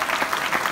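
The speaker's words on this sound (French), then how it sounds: "Est-ce qu'on peut applaudir aussi Luc Marie" Audience applause for Luc Marie at a conference in Castelmaurou, a short fragment of steady, fairly loud clapping from many hands.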